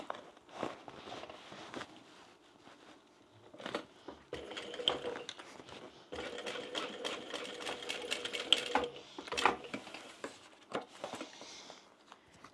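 A sewing machine stitches a bag seam in short bursts of rapid needle chatter separated by pauses, close and fairly quiet, with soft handling clicks between runs.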